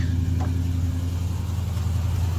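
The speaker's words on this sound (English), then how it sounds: "Old Chevelle, she fires right up." An old Chevrolet Chevelle engine already running on choke after starting, holding a steady, loud, rumbling idle close by with no speech.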